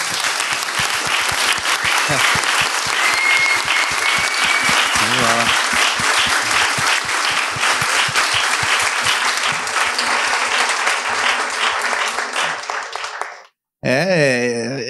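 A large audience at a round-table panel event claps loudly and continuously for the panel members, a thick sustained applause that cuts off abruptly near the end, followed by a brief voice.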